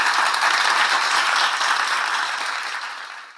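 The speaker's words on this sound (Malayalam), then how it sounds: "എല്ലാവരും നല്ലൊരു കൈയടി കൊടുത്തേ." An audience applauds two guests at a gathering, a dense continuous wash of many hands clapping close by that gradually fades away at the end.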